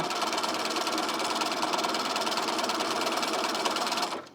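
A sewing machine runs fast and steady while stitching a t-shirt, a close, dense mechanical chatter that continues unbroken and then stops abruptly at the end.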